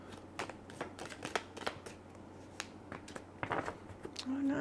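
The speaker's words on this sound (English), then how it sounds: "Let's get some more cards out." Tarot cards are shuffled and drawn by hand, giving soft riffling flicks and light slaps in uneven bursts, close and quiet, ending in a brief dull thump.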